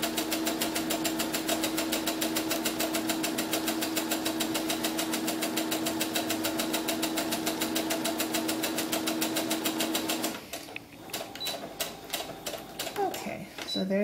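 A sewing machine stitches down the top of a doll slip in a long, steady, rapid mechanical whir that is loud and close, then stops, leaving faint handling clicks.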